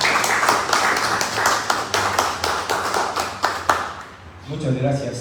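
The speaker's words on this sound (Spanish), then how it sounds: "Nuevamente, por favor, el aplauso para el doctor Alejandro Tobalín." An audience applauds a doctor after a conference talk on Lacandon censers at a regional museum: a full burst of clapping with sharp, quick hand strikes, fading near the end as a voice begins speaking.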